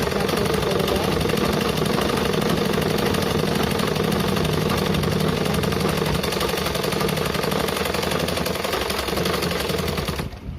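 A sewing machine runs a top stitch along the edge of a blouse hook strip, a loud close continuous whir with fast rhythmic needle pulses that stops abruptly at the end.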